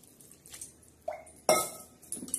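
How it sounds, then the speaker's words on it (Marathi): Hot water poured into a pan of eggplant curry with black masala, heard as a few sudden wet splashes and a hissing gush, with light clinks of the pan and utensil. "हे बघा आता वांग्यात थोडं गरम पाणी टाकणार आहोत"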